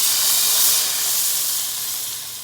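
Chillies and red chilli powder hit hot oil in a pan for a tempering over a low flame, giving a loud, steady sizzle and hiss that slowly eases off.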